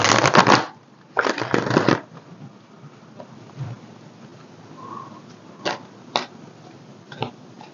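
Oracle cards being shuffled by hand: two loud bursts of riffling near the start, then quieter scattered taps and flicks of cards.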